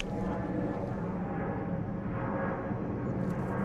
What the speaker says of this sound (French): il y a un avion qui passe au-dessus, on va peut-être l'entendre